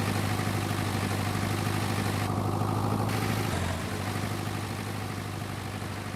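A farm tractor's engine drones loudly and steadily in the field, a constant mechanical hum whose pitch dips slightly partway through, heard without speech.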